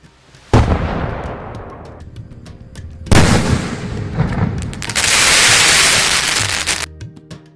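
Firecrackers bursting during Diwali festivities in Punjab, with loud sharp bangs and crackling salvos erupting in several bursts and dense sputtering fizz, no talk.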